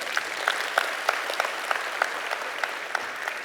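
An audience at a management conclave applauds steadily, a dense wash of many hands clapping with a faintly regular rhythm, no voices over it.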